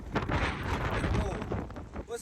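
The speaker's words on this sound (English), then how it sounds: "It's so windy out here right now." Strong, gusty wind roars across the microphone outdoors at a Kroger parking lot ahead of a tornado, a continuous broadband rumble with brief rises throughout.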